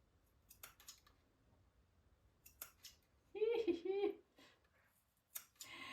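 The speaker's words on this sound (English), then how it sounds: "So I'm just gonna be doing it with my fabric scissors." Fabric scissors snip through a thick knitted sweater in a few crisp, crunchy cuts, with short pauses and a voice speaking between snips.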